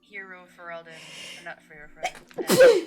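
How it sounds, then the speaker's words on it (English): A loud, sharp allergy sneeze bursts out at the end, following a stretch of people talking. "Oh god, I have to sneeze so bad."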